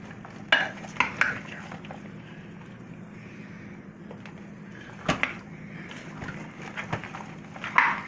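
Red pepper and potatoes roast in a pot for curry goat and oxtail, giving a low, soft sizzle, while a spoon scrapes and a few sharp metallic clinks from the utensil against the pot stand out.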